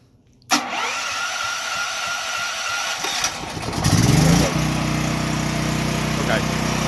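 A propane generator engine cranks after a brief silence, catches and settles into a loud, steady close-up running drone.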